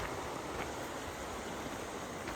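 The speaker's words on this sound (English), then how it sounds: "Nice little, I believe, unnamed waterfall on our gorgeous 10 Falls Trail." Small unnamed waterfall on North Fork Silver Creek along the Trail of Ten Falls, Silver Falls State Park, Oregon: a steady, continuous broadband rush of falling water, close and even throughout with no voices.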